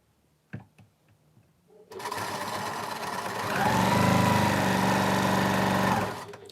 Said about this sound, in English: So I fold those together and I'm sewing along this line.